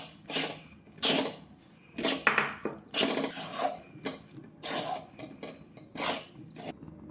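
Rice flour dough being stirred in a pot for chushi pitha, with repeated scraping and clinking strokes of a utensil against the metal, close and irregular, no talking.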